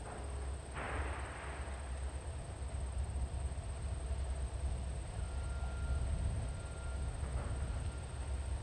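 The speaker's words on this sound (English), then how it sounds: "The creaking, clanking locking mechanism secures the bridge in the closed position." Creaking, clanking locking mechanism on a Minneapolis railway drawbridge over the Mississippi, locking the span closed. Low steady rumble throughout with a sharp metallic clank near the start and faint squeaks later, fairly distant.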